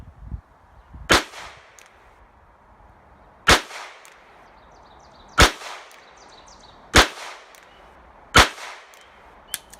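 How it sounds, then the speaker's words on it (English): A Charter Arms Pathfinder .22 LR revolver fires Aguila ammunition at an outdoor range 25 yards from the target. Five sharp, loud, separate shots come a couple of seconds apart, each followed by a short ringing decay. "So this is 25 yards, Pathfinder, and I'm shooting Aguila."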